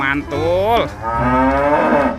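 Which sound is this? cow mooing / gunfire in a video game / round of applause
cow mooing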